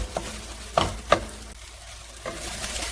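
Chicken rendang with spices cooking in a pan, a soft continuous sizzle broken by a few sharp scraping strokes of a spatula stirring, close and free of talk.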